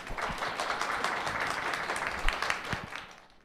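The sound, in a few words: audience applause welcoming a speaker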